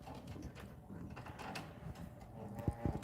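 Small adjustment knobs on an embroidery machine click and ratchet as they are turned, a quiet sequence of mechanical ticks and scrapes with a few firmer clicks near the end.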